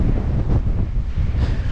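Heavy wind at an outdoor farm auction buffets the microphone, a constant loud low rumble that surges in gusts, with no talking.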